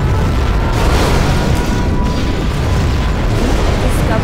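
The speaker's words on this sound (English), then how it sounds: "We have launched our nuclear missile." A nuclear missile detonating in Command & Conquer Generals Zero Hour, a loud, sustained roaring blast with deep rumble that holds steady for several seconds without letting up.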